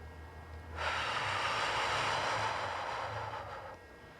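One long, deep breath is drawn steadily for about three seconds during a back and neck exercise, a close, airy rush that swells and then fades.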